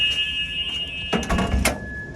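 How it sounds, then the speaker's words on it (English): A transit bus emergency door buzzer sounds during a pre-trip inspection, a steady electronic tone running across the clip with brief louder clatter in the middle. "I can hear the buzzer"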